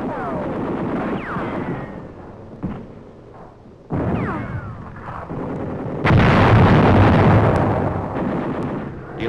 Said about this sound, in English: Delayed action bombs help to neutralize prepared positions above our troops.